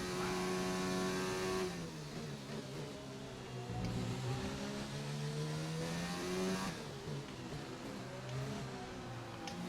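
McLaren Formula 1 car engine in the F1 2019 racing game: a high, whining engine note that climbs and drops through gear changes, steady and fairly close for the whole stretch, with no speech.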